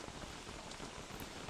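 Steady rain falls in the video game Don't Starve: Reign of Giants, a dense, even hiss of drops with no pauses and no voices.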